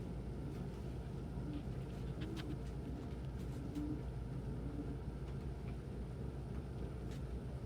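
Pet pigeons cooing nearby, soft repeated low coos and rumbles over a constant background hum, with a few faint higher chirps and rustles.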